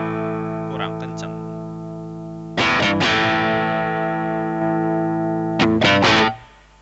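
Overdriven electric guitar chords ring out loudly through a Roland Cube 20 XL amp at half gain, a few strums sustaining with a gritty, saturated tone before cutting off.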